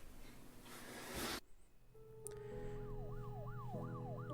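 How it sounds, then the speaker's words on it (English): A police siren sounds in the video game Her Story, entering after a brief burst of noise and settling into a steady, rising-and-falling wail over a low background hum. "got a police siren going there"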